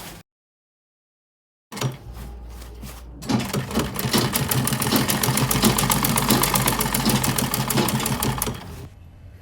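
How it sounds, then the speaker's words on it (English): A sewing machine stitches along the facing of a bubu jumpsuit, starting with a few short bursts after silence, then running in a fast, steady close mechanical rattle before slowing to a stop. "So I'm sewing exactly on that initial line for the material we use to face the dress"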